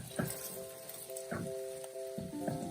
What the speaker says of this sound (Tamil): இப்ப இந்த கத்திரிக்காய் ஒரு ஸ்லைட்டா வதங்கி வரணும்